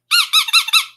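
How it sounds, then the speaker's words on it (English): A squeaky toy is squeezed four times in quick succession, each squeak a bright, close, loud whistle with a short gap between. "I got one squeaky here right now."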